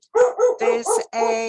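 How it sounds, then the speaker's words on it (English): A dog barks close by in a quick series of four or five sharp, harmonic barks with short gaps, loud and clear, with a brief spoken fragment alongside. "sorry, excuse the dog."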